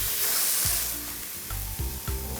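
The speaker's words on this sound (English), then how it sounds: "I'm just going to drop them in and start frying." Chicken pieces dropped into a hot oil-free SaladMaster pan, a loud close sizzle with rhythmic bursts of spitting as the meat hits the surface.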